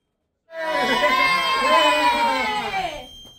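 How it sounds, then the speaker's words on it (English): A small group of people crammed into a lift at Martin Place metro station in Sydney bursts into loud, close cheering and whooping as the doors close, lasting about two and a half seconds before cutting off. "Now that celebratory cheer doesn't normally happen when the lift doors close"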